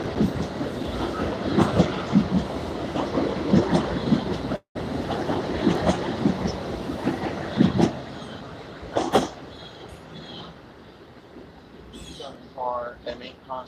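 A Metro-North commuter train made up of M8 cars rolls through Botanical Gardens Station, giving a steady rumble with clattering wheels and rail noise that fades toward the end, while people talk nearby.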